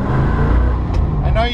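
A 1967 Ford S-code Mustang Fastback rumbles close by with a deep, steady engine drone while driving, a voice talking over it throughout.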